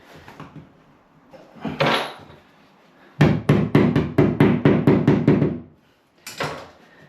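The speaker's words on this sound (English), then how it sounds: "They just push in, and you need to tap it in with a hammer" Hammer tapping plastic cover plates flush on an IKEA unit being converted into a bathroom vanity: a fast run of about nine sharp, close knocks, with a few scattered taps and handling noises before and after.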